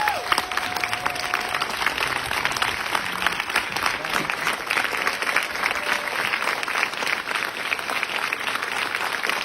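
Film festival audience giving a sustained ovation, loud continuous clapping from a large crowd filling the hall, with faint cheering mixed in.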